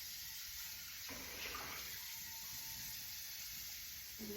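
Tap water runs steadily into a colander in a home kitchen sink, a constant close hiss of flow with no talk over it.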